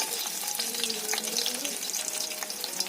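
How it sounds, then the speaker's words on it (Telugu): Garlic and dried red chilies hiss and crackle in hot tempering oil for gongura dal, a close, busy sizzle running steadily with no speech. "తాలింపులోకి ఫస్ట్ ఆయిల్ వేసుకొని తెల్లగడ్డ ఎండుమిర్చి"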